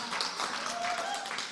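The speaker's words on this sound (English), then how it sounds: "I want to just give her a round of applause as well" Conference audience at a Caribbean Studies Association gathering giving a round of applause, a steady wash of many hands clapping in a hall, moderately loud and continuous with a faint voice underneath.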